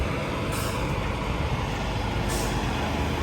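A truck maneuvers slowly into a parking spot, its engine a steady close rumble throughout with two short bright hisses of air brakes releasing.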